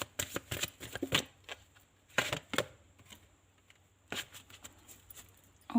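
A deck of tarot cards being shuffled by hand, with close, crisp riffling bursts in three separate rounds and short quiet gaps between them.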